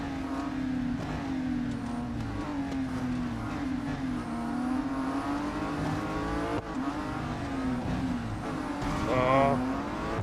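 Race cars in the Real Racing 3 mobile game howl around a track with a steady engine drone that rises and falls through gear changes. Brief tire squeal shows up toward the end, and someone talks over the engines.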